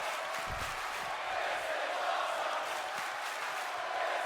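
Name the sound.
wrestling crowd chanting "This is awesome"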